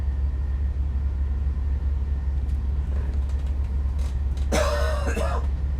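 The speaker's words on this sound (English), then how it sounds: "I am so sorry with the cough" A single harsh cough bursts out close by over a constant low hum, after a few seconds of quiet background.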